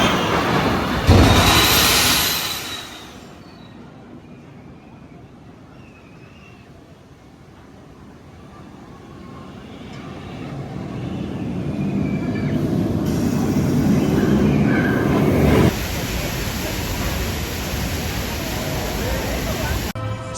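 Ride aboard the Max Force roller coaster at Six Flags Great America: a continuous loud rush of wind and track rumble that dips, then builds again into a heavy roar with sharp shifts in noise.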